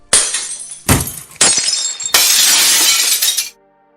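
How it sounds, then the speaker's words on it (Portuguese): Glass shatters in a sound effect for an audiobook: several sharp, bright crashes in quick succession, ending in a longer spray of breaking shards before falling silent. "Sua passagem causava uma melodia de vidro se estilhaçando."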